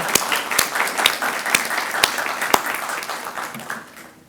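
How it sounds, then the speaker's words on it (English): Applause from a conference audience at an international conference on holistic organisational sustainability, a broad wash of many hands with a few sharp louder claps standing out, tapering off toward the end. "A big round of applause for her."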